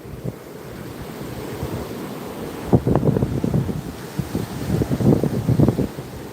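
Waves wash onto the shore while wind buffets the microphone, a steady rush that rises into several louder surges in the second half.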